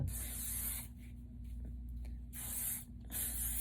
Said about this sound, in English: so just a little spray, hold.